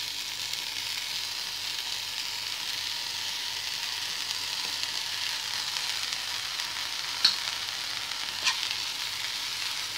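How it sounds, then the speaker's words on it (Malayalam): Washed drumstick flowers fry in a pan with a steady close sizzle and hiss, and a couple of faint clicks from stirring. "ഇനി നമുക്ക് നമ്മുടെ മുരിങ്ങപ്പൂവ് കഴുകി വെച്ചേക്കുന്നത് ഇതിനകത്തോട്ട് ചേർത്ത് കൊടുക്കാം."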